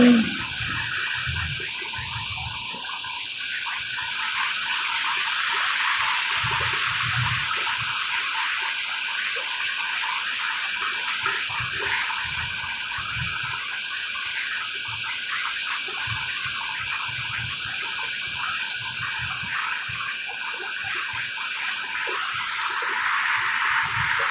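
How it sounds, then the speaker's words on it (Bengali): Waterfall water rushes and splashes steadily into a pool, a constant broad roar of falling water that continues without pause. "এখানে জমা করছে ঝর্নার পানি"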